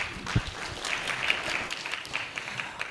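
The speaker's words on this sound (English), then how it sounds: "Let's give Erica a warm round of applause" Applause for Erica at a public service inter-generational dialogue conference, a moderate, steady patter of clapping through the room with no talk over it.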